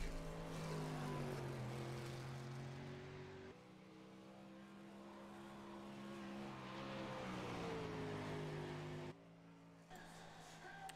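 A 305 sprint car laps a dirt speedway at Williams Grove, its engine a loud sustained roar that rises and falls through the turns, heard from the grandstand with an announcer talking over it.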